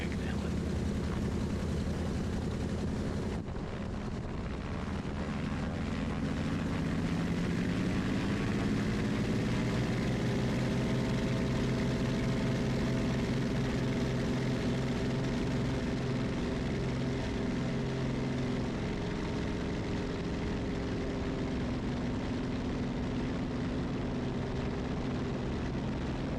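A Beech 65 Queen Air twin-engine propeller plane takes off, its engines rising from a steady drone into a loud, sustained roar that holds throughout, with a brief voice under the engine noise.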